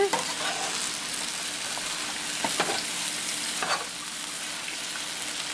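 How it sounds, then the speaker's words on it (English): Eggs fry and scramble in a pan beside Korean pork and fried rice, a steady close sizzle with occasional light scrapes and taps of a utensil moving them around. "You can watch the eggs kind of cook in here"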